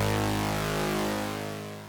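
A sustained brass stab from the Serum synth with a compressor, for a remix: one bright, thick chord held loud and alone, slowly fading near the end.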